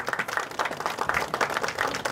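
Crowd applause for schoolgirls marching in a civic student parade in Santa Rita, a steady patter of many hands clapping at moderate distance for about two seconds.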